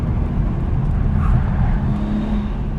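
A BMW M240i descends a winding mountain road near Mount Wilson, California, heard from inside as a steady loud engine and road drone with a faint tonal hum, continuous throughout.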